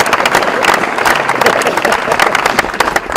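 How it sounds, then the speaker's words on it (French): A crowd applauds for the technical director at a football academy gathering, a dense, steady wash of clapping that holds loud and even throughout with no break. "On acclame pour le DT."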